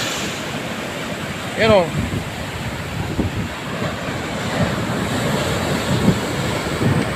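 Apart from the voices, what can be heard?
big ocean waves near Sulangan lighthouse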